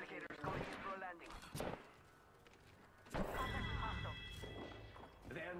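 Bursts of gunfire in a shooter video game with shields and replicator enemies, sharp thumping shots clustered at the start and again midway, loud over ongoing game effects while a person talks.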